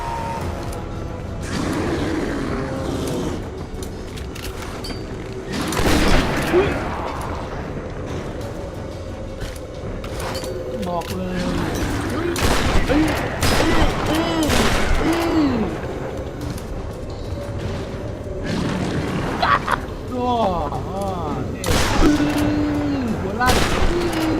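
Gunfire in the Tomb Raider video game, repeated shots and impacts over rumbling game noise and music, with someone talking throughout.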